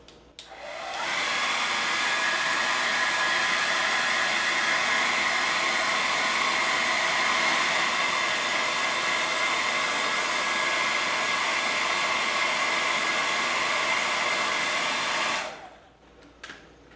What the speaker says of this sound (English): I'm going to immediately dry it using a hairdryer.